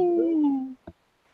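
A man imitating a dog howling: one drawn-out vocal howl that slides downward in pitch and then breaks off, followed by a short sharp bark-like yelp, close and fairly loud.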